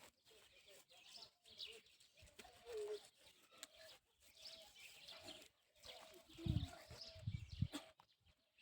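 Birds call from trees around a rural school yard, soft chirps and a few coo-like notes mixed with nearby voices and low background noise.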